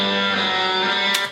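Soloed, heavily distorted guitar riff track from a rough song mix, a dense sustained buzzing chord held for over a second before a bright attack and a quick cutoff, loud and alone.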